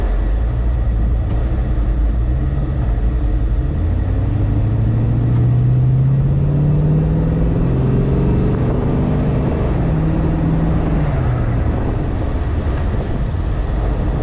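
A 1962 Chevrolet Nova convertible with an LS engine and 6-speed rumbles steadily while driving, rising and falling in pitch as it revs through the gears, with no talking.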